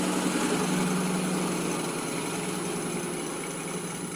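A wood lathe hums steadily as a bowl gouge turns a wooden bowl, a constant motor drone with a high whine and faint cutting hiss, no talk.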